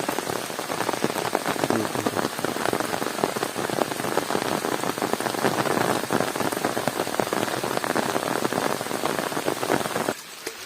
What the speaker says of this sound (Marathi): आता पाऊस कमी झालाय